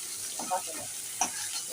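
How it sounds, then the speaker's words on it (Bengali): Ginger and garlic fry in a kadai for Bengali chicken kasha, a soft, low sizzle with a few light stirring scrapes and clinks. "এবার আদা রসুনটা ভালো করে ভাজা হবে"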